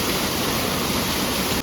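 Water rushing in a small hill stream, a loud, dense, unbroken roar filling the whole stretch close by, with no voices, cutting off abruptly at the end.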